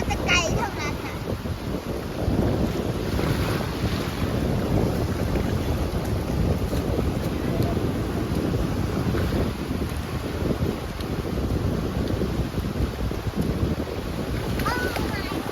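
Sea waves and wind on Chao Lao beach in Chanthaburi before rain: steady surf wash with microphone wind rumble, loud and continuous throughout, with people talking in the background.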